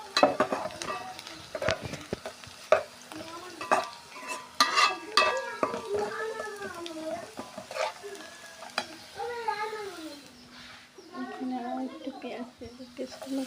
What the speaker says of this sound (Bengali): এই পেঁয়াজটা আসলে ভাজতে অনেক সময়